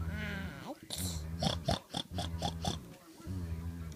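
Child imitating a pig, making a quick series of rhythmic oinking grunts, close and clear, with speech before and after.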